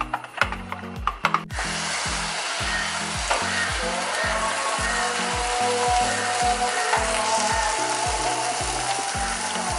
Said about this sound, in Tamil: ஸோ இப்போ வந்து நம்ம தோசையை ஊற்றிடலாம்